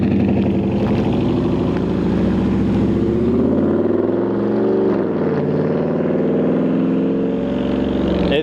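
Dodge Charger ScatPack V8 heard from outside the car, a loud throaty rumble near the microphone that holds steady, dips briefly midway, then swells again, with no talking.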